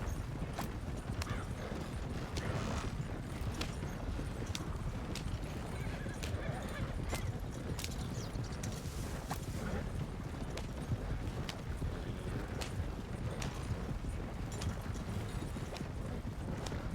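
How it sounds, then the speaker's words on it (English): Steady hoof clip-clop of horses moving in a video game, over a constant noisy background, with occasional faint sharp clicks. "these horses are fast, but they tire real quick"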